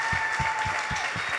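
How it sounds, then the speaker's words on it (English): An audience at a real estate masterclass session in Orlando applauds its panelists: a short burst of dense, close clapping with a faint tone lingering behind it. "Let's give a giant round of applause to our panelists for this month's session"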